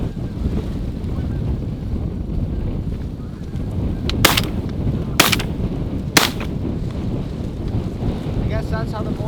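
Three sharp shotgun blasts fired at an incoming four-pack of geese over a large late-season corn field, spaced about a second apart over steady wind noise, with faint honking afterward.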